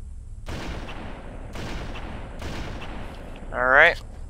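Sniper rifle fire in Halo CE, three evenly spaced loud booming shots with rumbling tails over a steady game background, followed by a brief rising electronic whine.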